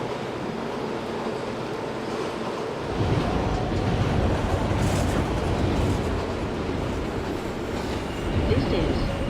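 An R160 subway train from the OpenBVE simulator runs along the track, a steady loud rumble and rattle that grows heavier after a few seconds, with faint wheel squeal.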